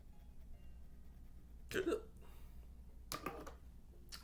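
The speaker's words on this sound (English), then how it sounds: "I hate hiccups." Two sharp hiccups from a person, spaced more than a second apart, close and fairly loud against a quiet room with faint background hum.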